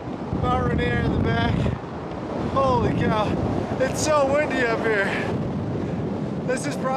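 Strong gusty wind roars across the microphone on the summit of Mount Adams, a loud, constant rushing under breathless voices talking and exclaiming close by.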